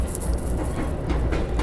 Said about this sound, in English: they can't hear me for the train noise.